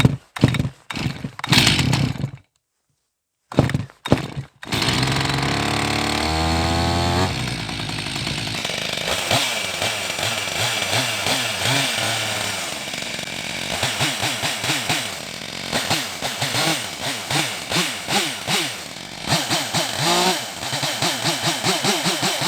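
A Stihl MS261 chainsaw engine starts with a few sharp pulls and bursts, then settles into a loud, continuous two-stroke idle and revs as it warms up.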